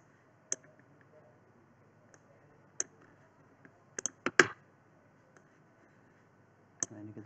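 Sparse mouse clicks on a computer, sharp isolated ticks spaced seconds apart with a brief quick cluster near the middle, close and quiet against a near-silent room.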